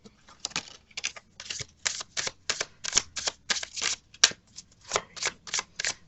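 Tarot cards are shuffled up close in a quick series of crisp riffling bursts with short pauses between them, and no voice over them.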